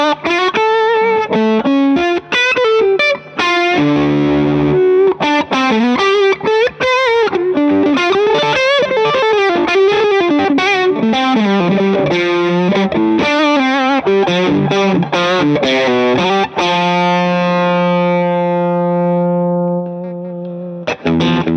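A Fender Custom Shop '53-style Telecaster electric guitar on its bridge pickup, tone rolled to halfway, plays driven, distorted riffs and chords with quick note changes, then lets a final chord ring out and decay.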